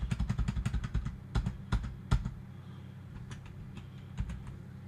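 Fast, uneven typing on a new computer keyboard, with sharp key clicks in bursts followed by a few scattered strokes, close and distinct over a low steady background hum.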